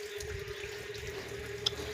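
Rainwater pouring and dripping during heavy rain in a village, a quiet, steady wash of running water with a faint continuous hum and an occasional sharper drip.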